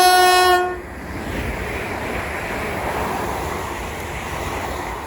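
A Class 350 electric multiple unit travelling from London Euston to Crewe passes through Watford Junction on the West Coast Main Line. A brief two-tone horn sounds first, followed by a steady rushing roar of the passing train.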